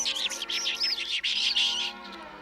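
A small cartoon bird chirps and warbles in quick, bright, high tweets that run steadily for a couple of seconds before trailing off, with no talk over it.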